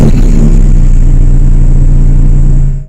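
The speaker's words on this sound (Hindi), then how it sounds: "गाड़ी स्टार्ट करते हैं।" A car engine runs steadily at a loud, close level with a strong low rumble and a brief rev, then cuts off abruptly at the end.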